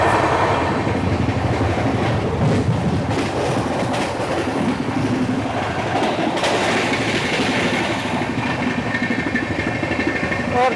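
The Mumbai–Ahmedabad Double Decker Express, train 12931, runs at high speed through Dahanu Road, a loud, continuous roar of wheels and rattling carriages with rhythmic clatter throughout.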